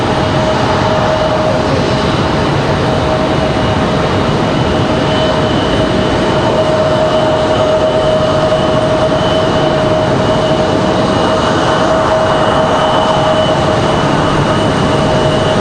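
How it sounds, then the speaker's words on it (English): A JetBlue Airbus A220 rolls along at Raleigh-Durham International Airport, its jet engines giving off a loud, steady roar and a constant whine that carry on unchanged for the whole stretch, with no voices. "John about to get a move on in this beautiful JetBlue A220."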